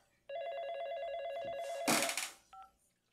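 An old telephone bell rings in a single loud, close burst, followed by a clatter and a short second ring.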